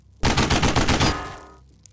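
Sniper fire in the turn-based strategy game Xenonauts comes as a loud burst of several rapid cracks, then a ringing tail that fades out with no one talking.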